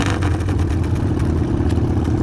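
At a bike night, a motorcycle engine runs loud and close with a pulsing, throaty exhaust beat that swells briefly, with no talk.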